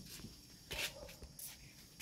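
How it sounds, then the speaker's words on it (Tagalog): Dogs in a dark home setting, a couple of brief close yelps or whimpers among soft shuffling, quiet overall. "May mga aso."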